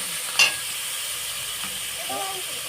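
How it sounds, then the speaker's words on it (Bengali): Spice paste with black cumin seeds fries in a pan, giving a soft, steady sizzle and hiss throughout, with a brief sharper crackle near the start. "আমি মশলাটাকে এইভাবে অল্প করে আর একটুখানি কষিয়ে নেব"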